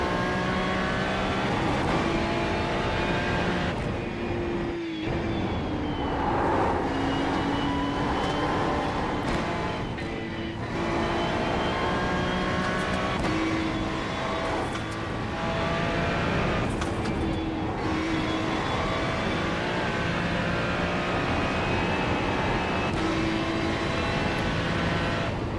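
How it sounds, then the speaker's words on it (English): Race car engine in a Nurburgring endurance racing video game, a steady loud drone with shifting gear whines and rev changes running continuously, with brief dips between gear changes. "Got to get used to the engine sound"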